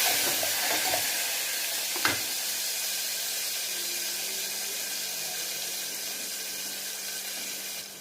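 Sliced onions fry in hot oil with ginger paste and masala, giving a steady, quiet hiss of sizzling. A single clink of a utensil sounds early on, with no voices.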